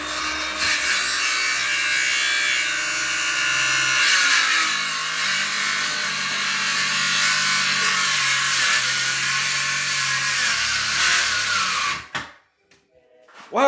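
A circular saw rips through wood with a loud, steady high-pitched whine and grinding for about twelve seconds, then stops abruptly and winds down into near silence.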